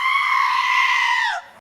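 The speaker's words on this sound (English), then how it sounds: "they do the classic screaming goat sound effect" The classic screaming goat meme effect in an animated movie: one long, loud, human-like goat scream that holds steady, then bends downward and breaks off abruptly.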